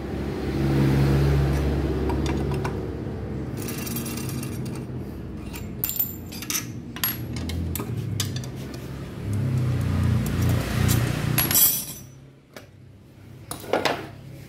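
Metal parts clank, clink and rattle as the CVT cover comes off a motorcycle with a rough, noisy starter. Scattered close knocks and jingles sit over a low steady hum, with a busier burst toward the end.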